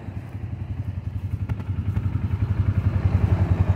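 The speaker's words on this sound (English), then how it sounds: "7045 Allis Chalmers is a beast, guys. Hell of a tractor." An Allis Chalmers 7045 tractor engine chugs in a close, steady, rapid pulse that grows slightly louder, while the tractor feeds hay on a muddy, snowy farm. No one talks.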